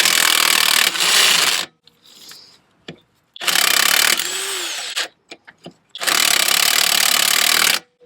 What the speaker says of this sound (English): So an impact gun's very handy.